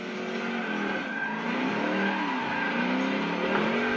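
Race car tires skidding and squealing in a racing simulator game with a hand brake setup, a continuous loud engine and tire screech running steadily for the whole stretch with no talk.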